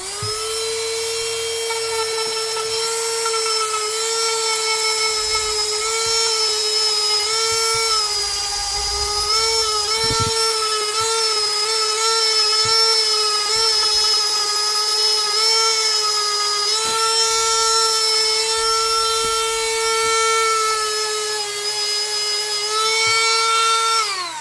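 A rotary tool grinds and sands the cork heel of a Birkenstock sandal, a loud, sustained high-pitched whine that holds steady with slight pitch dips as pressure shifts, heard alone up close.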